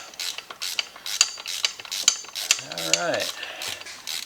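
A ratchet loosens bolts on the power steering pump of a 1995 Buick LeSabre with close, irregular clicking strokes and metallic clinks, plus a brief squeaky creak as tension releases; someone says a single word.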